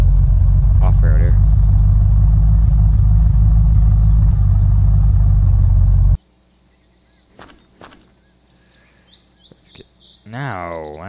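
A car engine in the video game Unturned drones in a loud, steady rumble for about six seconds, then cuts out abruptly, leaving faint ambient chirps and a voice talking.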